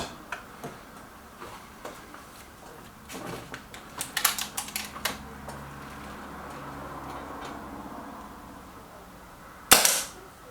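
An air rifle fired at a paper target card: a few faint ticks and clicks, then one sharp, loud crack near the end, with no talking.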